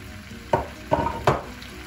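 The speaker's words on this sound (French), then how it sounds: "Que je vais faire revenir dans un peu d'épices" Salmon fillets sautéing with spices in a pan, three distinct scraping stirs spaced about half a second apart over a soft, steady sizzle, close and fairly quiet.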